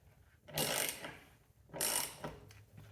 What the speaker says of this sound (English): I'm using a 1/2 inch dry ratchet, just because I can't find my 12 millimeter.